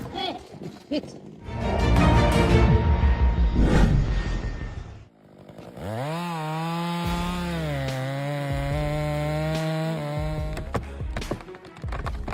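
Chainsaws felling and cutting tree timber during heavy logging work, a loud rasping saw that rises and drops in pitch, with a steady revving engine whine running through most of the stretch.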